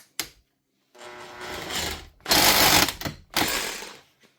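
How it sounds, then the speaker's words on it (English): A Makita 36V BHR262 cordless rotary hammer drill with a slipping chuck and spindle runs in three loud bursts of whirring and rattling hammer action, separated by brief pauses, with no voices. "So it is drilling, she is hammering."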